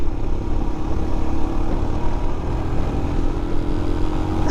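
A 2022 Royal Enfield Himalayan motorcycle runs at full throttle, its engine a steady, loud, continuous drone with a rough low-end rumble and wind noise throughout.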